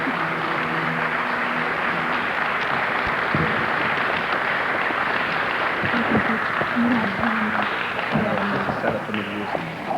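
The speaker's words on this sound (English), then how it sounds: "Let's show him our love and our appreciation with a warm round of applause." Warm applause from a lecture audience welcoming Dr. Llaila Afrika onstage, a dense steady patter of many hands filling the whole stretch, with scattered voices and faint tonal sounds under it.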